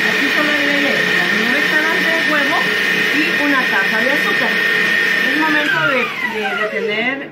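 An electric mixer whips egg whites with sugar, whirring steadily at high pitch and winding down near the end, while a person talks over it.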